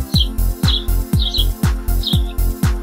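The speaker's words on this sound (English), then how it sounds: "Blue jay." A blue jay calls in a run of about six sharp, evenly spaced harsh cries, loud and close with no talk or other sounds.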